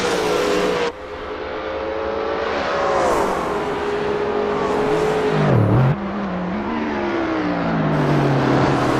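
Holden Commodore touring race cars, including the 05 Holden Dealer Team car and the Kmart car, accelerate past one after another, engines rising and falling in pitch as they pass close and loud, with no voices.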